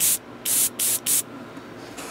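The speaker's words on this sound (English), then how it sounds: "Just as the airbrush finishes." Four short hissing bursts of paint spray from an airbrush in a paint booth, the first three quick and evenly spaced and the fourth slightly longer, with a faint hiss trailing off afterward.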